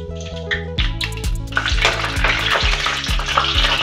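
Loud crackling sizzle of cumin, mustard seeds and two dried red chillies frying in hot oil, with sharp pops and steady spitting throughout, close up, over a low background tone.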